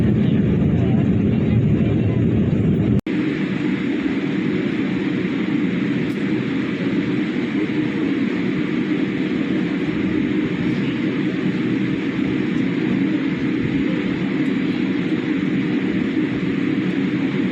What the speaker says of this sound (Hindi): अब तो लैंडिंग होने वाली है थोड़ी देर में